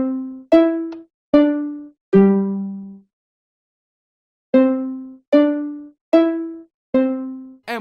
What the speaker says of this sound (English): now let's do the high pitched sound one.